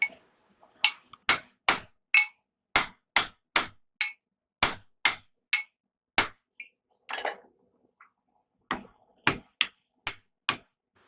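A hammer bangs on a drift in the eye of a hand-forged cross peen hammer, producing a long run of sharp, ringing metal strikes in uneven clusters with brief pauses, loud and close.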